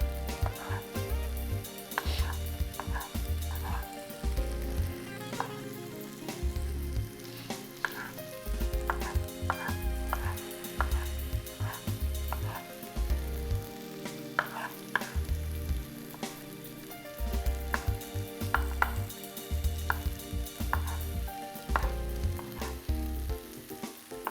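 Cabbage rice cooking in a pan with added water, steadily sizzling and frying throughout with stirring sounds, continuous and close.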